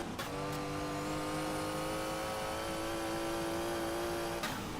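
Onboard engine of a race car in a sim racing game at the 1984 200 Meilen von Nürnberg, a steady high-pitched drone held at constant revs for several seconds, with a brief sharp transient at the start and end.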